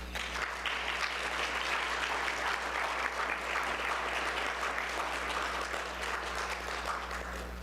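An audience at a lectureship event applauds a poster award winner, with steady, fairly distant clapping over a constant low hum in the room, holding an even level throughout.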